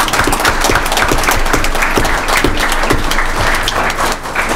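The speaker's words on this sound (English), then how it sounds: "So could you give a round of applause for these staff members?" A room at a school board meeting breaks into loud, sustained applause for staff members: many hands clapping in a thick, crackling rhythm that stays full and close throughout.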